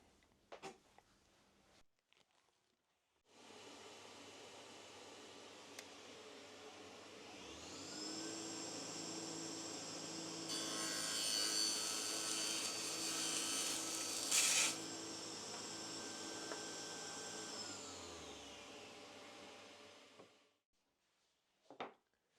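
Acrylic tube parts are cut with a power tool, a steady whining motor drone with a rasping cutting edge that builds, holds for about fifteen seconds, then winds down, fairly quiet with no talking.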